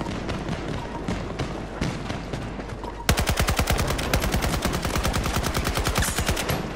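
Rapid SCAR H rifle fire in Battlefield 2042, a short burst followed by a loud, fast string of evenly spaced shots continuing to the end.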